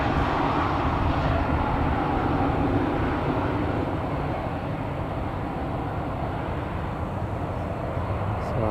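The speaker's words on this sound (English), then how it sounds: "Looks like a TUI is going to park at the other side of the Emirates aircraft" A TUI airliner taxis to park at Newcastle Airport, its engines giving a steady, distant broadband roar that holds for several seconds, with faint voices underneath.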